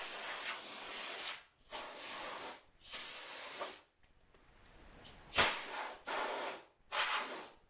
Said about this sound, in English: I could use my air compressor and just do a couple